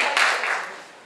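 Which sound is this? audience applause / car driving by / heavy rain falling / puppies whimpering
audience applause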